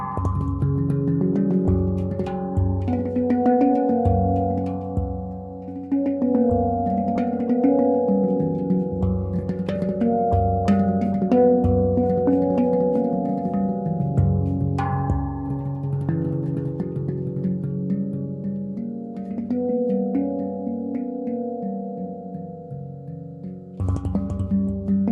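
An Axiom Apex outie handpan rings out alone in a continuous melodic passage of struck metallic notes, layered harmonic tones sustaining and overlapping with steady, fairly loud dynamics and no talking.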